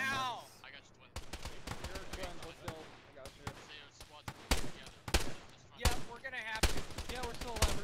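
Sporadic gunshots and bursts crack through an ARMA 3 firefight, with sharp loud reports spaced irregularly over quieter stretches and a voice talking at the start.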